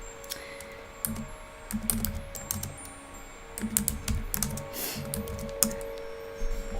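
Computer keyboard typing and deleting, with clustered bursts of key clicks and a few isolated taps separated by short pauses, close and moderately quiet, with no talking.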